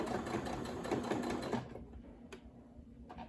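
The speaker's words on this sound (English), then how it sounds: "I slow down my stitching speed" A sewing machine stitches a fabric ruffle at slow speed, a quiet whirring run of about a second and a half that stops, followed by a couple of faint clicks.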